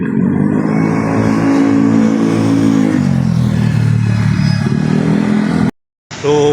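Road traffic at Pantaleon Bridge, Philippines: a continuous loud rumble of car and motorcycle engines passing close, with revving and clatter, ending in a brief cut to silence.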